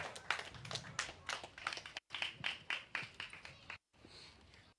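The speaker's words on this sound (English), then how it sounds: "Please, everybody, round of applause for Sean for staying in Muda for so long." Audience at an outdoor political rally in Bandar Utama claps in bursts of scattered, uneven hand claps, fairly faint, stopping and restarting briefly with short gaps between.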